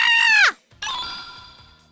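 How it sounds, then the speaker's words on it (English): A loud, high-pitched human scream rises and then cuts off with a falling pitch, followed by a second sustained shriek that fades away. "That was a human scream."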